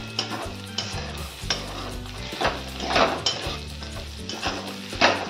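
Soaked sago pearls and peanuts are stirred in a frying pan for sabudana khichdi, with a rhythmic run of spatula scrapes and clinks over a close, continuous sizzle.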